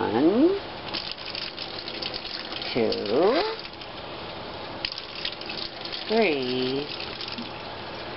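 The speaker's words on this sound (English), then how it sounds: "we're going to use 5 half eggshells of water for the water in the dumplings" Water is poured from half eggshells into dumpling dough, a soft splashing gush under a voice counting aloud, each pour brief and fairly close.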